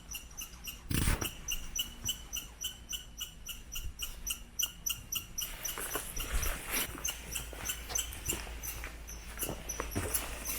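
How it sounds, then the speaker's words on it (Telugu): Squirrels chatter in woodland near Seward, Alaska, with rapid, evenly repeated high chirps that run steadily through the whole stretch, fairly close and clear over a faint background. "ఉడతలు ఎందుకు అరుస్తున్నాయి?"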